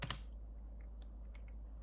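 Computer keyboard typing during a coding session, a quick burst of keystrokes at the start followed by a few faint scattered clicks over a low steady hum.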